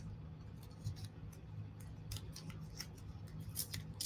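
A piece of tape is pulled and torn off during an acrylic painting craft project, producing several brief, faint crackling snaps over a quiet low hum.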